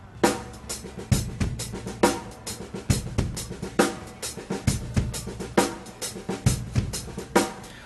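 A full drum kit plays a steady groove with punchy kick and snare hits and bright cymbals, sounding compressed and roomy with a reverb tail.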